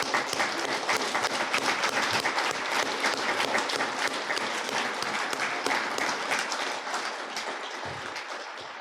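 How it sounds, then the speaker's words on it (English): A large audience applauds at a State of the City address, a continuous dense wash of clapping that holds steady for most of its length before easing slightly near the end. "please let's give him a round of applause"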